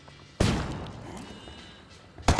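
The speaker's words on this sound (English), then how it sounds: "Lobbing a flashbang." A flashbang in Ghost Recon Wildlands goes off with a sudden loud burst that rings out and fades. A second sharp blast comes near the end.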